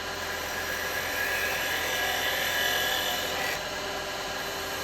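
A carbide turning tool cuts across a spinning wooden bowl on a lathe, clearing torn grain in a steady, loud, even scraping hiss that swells slightly in the middle, with no talking.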